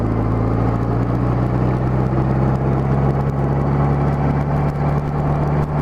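A Honda GL1200 motorcycle engine cruises in fourth gear at low speed, around 2,400 RPM, after a carburetor kit install. Its steady, continuous drone sits close and loud, with a smooth hum and constant road and wind noise throughout.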